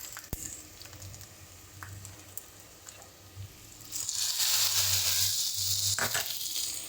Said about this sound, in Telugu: పోపు ఎక్కువ వేసింది.